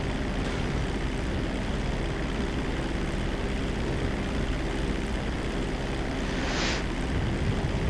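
A plane flying in to land on a runway in GTA V (FiveM), a steady, dense engine roar throughout with a brief brighter swell near the end.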